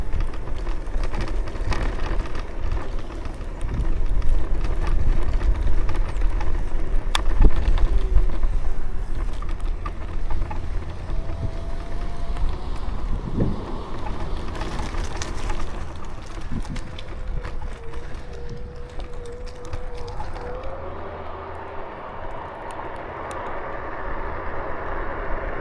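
Steady roar of wind buffeting the microphone on a NIU electric scooter ridden at full speed, a continuous loud rushing broadband noise with faint whining tones mixed in, no voices.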